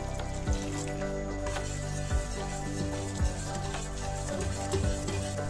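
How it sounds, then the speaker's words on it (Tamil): Sathu maavu flour mix being stirred into a tumbler of water to dissolve lumps, a spoon scraping and knocking the vessel in repeated strokes over a constant low hum. "இப்போ இந்த மாவுல 1 டம்ளர் தண்ணி விட்டு நல்லா கட்டி இல்லாம கரைச்சி எடுத்துக்கோங்க"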